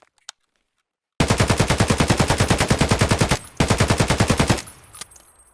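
An AK-103 rifle fires full-auto in the video game Escape From Tarkov: a loud, rapid, evenly spaced stream of shots in two bursts, the first long and the second shorter, with a brief gap between them.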